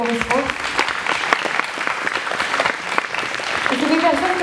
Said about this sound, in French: Philippe, on peut l'applaudir parce que quand même avec tout ce qu'il a fait pour Miss France.